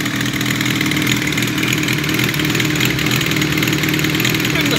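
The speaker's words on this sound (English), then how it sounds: "the idle's pretty much spot on here" A 2005 Kawasaki ZRX 1200R fitted with TMR-MJN carburetors idles steadily and loudly close by, a smooth even engine rumble, on first start after a rebuild.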